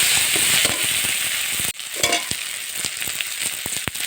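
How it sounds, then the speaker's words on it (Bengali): Water poured into a pan of frying chopped flat beans for a bitter neem-leaf village dish makes a loud hiss of sizzling, then the pan settles into crackling, popping bubbling close by. "এবারে এর মধ্যে আমি জল দিয়ে দেবো"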